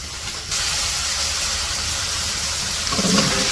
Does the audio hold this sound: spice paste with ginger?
yes